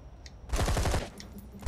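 A mounted turret machine gun in ZombiU fires one short, rapid burst of loud, close shots, with a few quieter clicks before and after.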